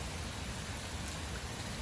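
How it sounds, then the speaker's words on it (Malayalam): Heavy rain falls outside during a downpour in Dubai, a steady, even hiss of rain on surfaces, faint and distant with no talk. "പുറത്ത് നല്ല മഴ പെയ്തുകൊണ്ടിരിക്കുകയാണ്"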